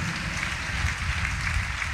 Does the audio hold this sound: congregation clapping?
yes